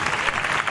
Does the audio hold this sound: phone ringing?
no